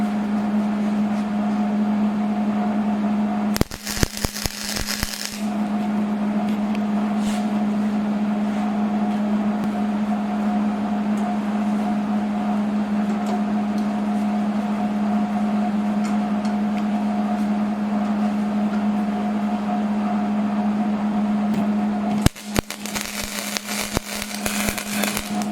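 Tack welds on a rack fitted to a Craftsman LT1000 riding mower: two short bursts of crackling, spitting arc noise several seconds apart over a constant electrical hum.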